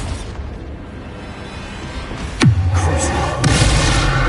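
A heavy explosion from the Bombarda spell in a Harry Potter-style video game, one sudden close boom that settles into a low rumbling roar with a second burst about a second later, set against steady background noise.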